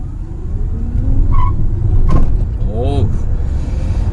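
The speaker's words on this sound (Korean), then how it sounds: "가속 중간에 휠스핀이 일어납니다." Mercedes-Benz EQA 250 electric car accelerating hard with some wheelspin, a loud steady drone and road rumble from inside the cabin, with brief tonal whines and sweeping chirps over the top.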